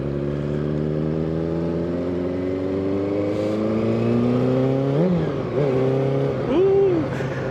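1989 Honda CBR400R 400cc inline-four motorcycle on the move, engine droning steadily through a long rising pull, then a few sharp shifts and throttle blips, heard from the rider's position with wind noise.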